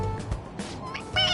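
A toy cat in the Persona 5 Royal video game meows when pressed on its head, a short mewing call rising near the end amid light background sound and faint voices.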